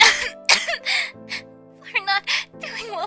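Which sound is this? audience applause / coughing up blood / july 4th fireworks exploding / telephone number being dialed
coughing up blood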